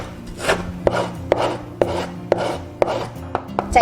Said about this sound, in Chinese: 把泡软的芥菜干切末